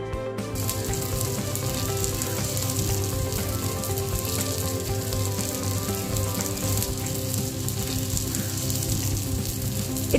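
Surmai fish fries on a tawa with a dense, steady sizzle and crackle that continues without a break, close and fairly loud, no voices.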